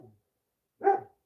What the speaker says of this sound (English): they hear the neighborhood dogs barking, they have to go out and talk back to them